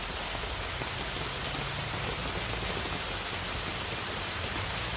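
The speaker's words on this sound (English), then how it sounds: "You love that rain sound, and it's nice under here." Steady rain pours down as a dense, even hiss of drops striking a surface close by, continuous and unbroken throughout.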